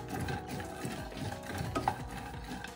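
Almond, pistachio and cashew pieces stirred in hot ghee over a low flame for a Konkani sweet, giving continuous scraping and rustling with a few small clinks, close and steady.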